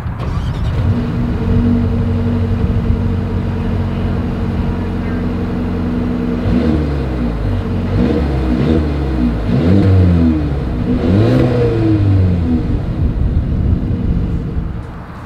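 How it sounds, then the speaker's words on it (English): A 2023 Mercedes-Benz GLB 250 idles with a steady exhaust drone, then is revved several times in a row, each blip rising sharply and falling back, loud and close outdoors. "As always, here is that exhaust clip."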